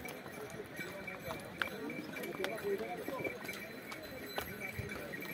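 Horse hooves clip-clop along the rugged Amarnath Yatra pilgrimage trail, with irregular sharp clops and clatter over a busy background of people and ambient outdoor noise, moderately faint.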